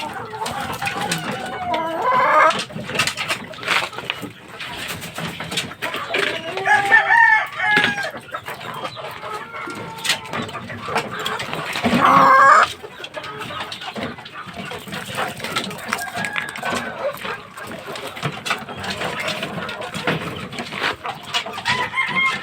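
A gold stag gamecock and other fighting chickens crowing and clucking nearby, repeated crows rising over a busy stream of clucks and calls, fairly loud and close throughout.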